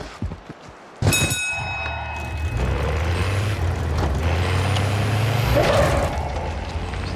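A vehicle in the Warzone battle royale game starts up with a sharp burst, then settles into a steady, loud engine drone with a hissing, air-brake-like release, heard up close with no talk.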